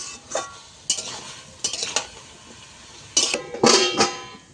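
Bottle gourd with salt being stirred in a pan on the stove: a few short scraping strokes of a spoon against the pan in uneven bursts, with quieter pauses between, close and fairly soft.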